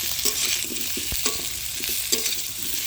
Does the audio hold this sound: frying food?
yes